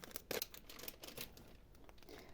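A plastic package holding a set of embroidery threads is opened up close, giving short crinkling and tearing rustles, with a sharper burst near the start and quieter handling after.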